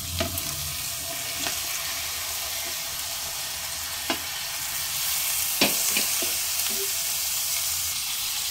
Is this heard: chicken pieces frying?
yes